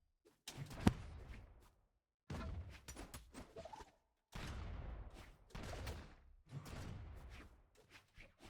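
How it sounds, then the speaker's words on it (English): Cannon shots from a weapon in the fighting game Brawlhalla, several loud bursts with whooshing tails arriving in clusters, one sharp crack near the start, separated by short silences. "You can hear my cannon go completely off"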